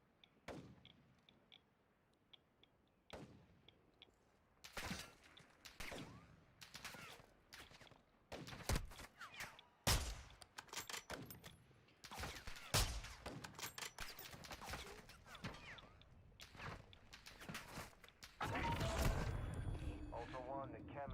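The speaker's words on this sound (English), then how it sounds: "Who's shooting me?" Gunfire in Call of Duty DMZ, with sharp separate shots and short bursts cracking out at irregular gaps, some loud and near, rising into a heavier sustained barrage near the end, with a voice talking in places.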